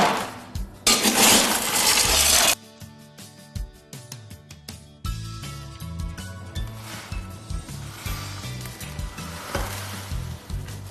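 Coarse and fine aggregate, sand and gravel, stirred together in a bucket, giving gritty scraping and rattling bursts with clinking stones, loud at first and then in shorter, uneven strokes.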